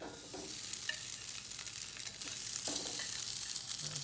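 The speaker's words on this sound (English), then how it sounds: "Stick those in there. And I would say probably give them a couple of minutes aside. Give them a chance to sear off" Wagyu hamburger patties sear in a very hot preheated pan, giving a steady, close sizzle with bright hissing that swells slightly toward the end and carries no talk.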